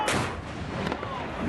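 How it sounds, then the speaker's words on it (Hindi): Gunfire from both sides of the fighting in Panjshir, Afghanistan, heard as a dense, continuous wash of distant shots and rumbling reports with no clear gaps between them. "पंजशीर में फायरिंग किस तरह अपने चरम पर है, दोनों ओर से फायरिंग हो रही है।"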